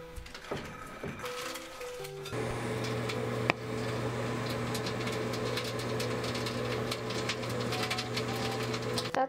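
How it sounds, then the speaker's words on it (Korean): A steady mechanical hum with a low drone runs continuously after a brief pause, a microwave oven motor operating close by, with occasional faint clicks. "전자레인지 돌려보자."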